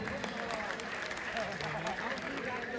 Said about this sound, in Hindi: तो मैं चाहती हूँ एक बार सभी कवित्रियों के लिए आपकी जोरदार तालियां हो जाएं।